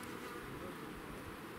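Honey bees at an apiary buzz in a dense, continuous hum, faint and steady throughout the short stretch with no speech over it.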